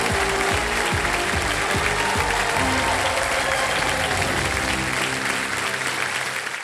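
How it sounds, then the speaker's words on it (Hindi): Loud, continuous studio audience applause on a Hindi quiz show set, dense clapping from a large crowd sustained throughout without a break. "कॉमेडी सुपरस्टार सुनील ग्रोवर जी के लिए एक बार फिर जोरदार तालियां बज जाएंगे।"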